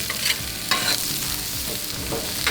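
Vegetables are tossed in a little oil on a Pit Boss griddle, giving a loud, continuous sizzle with a few quick scraping bursts from the turning, nearby and without voices.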